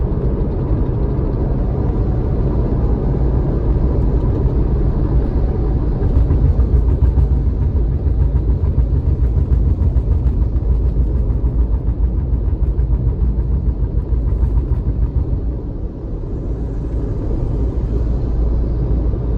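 Car rolling downhill at about 80, a steady loud low road and engine rumble heard from inside the cabin, continuous throughout with a slight dip toward the end.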